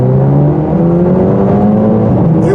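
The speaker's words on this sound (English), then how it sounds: "Put it in sport mode so we can hear that exhaust." A 2023 Mercedes-AMG SL 43 Roadster in sport mode, engine and exhaust accelerating with a rising, loud, close tone that holds steady throughout, no talking.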